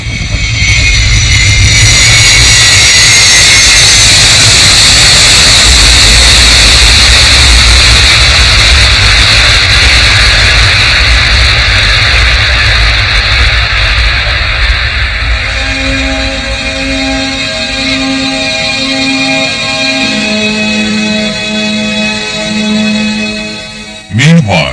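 Loud jet aircraft roar at Kennedy Airport on a gloomy winter day, a broad sustained rush that fades somewhat before tonal music enters near the end, with a narrator's voice over it.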